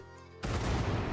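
A ship's barrage attack in Civilization VII lands as a sudden loud burst of booming impacts after a quiet lead-in, dense and rumbling for the last part of the second.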